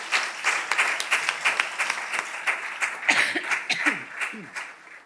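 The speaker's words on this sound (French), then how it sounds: "Applaudissez-vous, les membres de la famille." Family members at a church blessing applaud in steady, moderate clapping, with a few voices and soft chuckles rising near the end.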